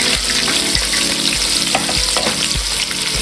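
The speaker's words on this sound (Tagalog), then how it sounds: "Prito lang natin to" Loud, continuous sizzling of battered flying squid frying in hot oil, close up, with brief faint thumps beneath the crackle.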